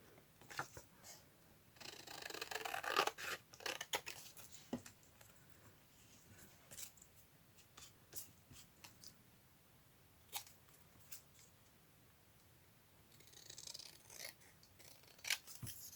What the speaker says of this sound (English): I'm going to cut this in 2 sections.